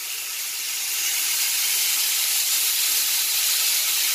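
Sirloin steak sizzles hard in a hot pan just after being flipped, a steady loud hiss that swells slightly and holds with no voices over it.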